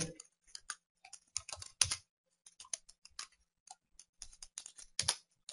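Keystrokes on a laptop computer keyboard, tapped in quick irregular bursts with short pauses between, close and fairly quiet in an otherwise silent room.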